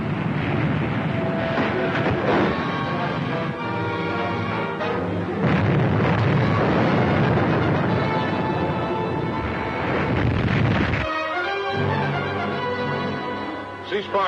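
Naval gunfire from a warship's guns in a wartime film serial: loud, dense booming and rumbling blasts that continue almost without a break, with a brief drop near the end.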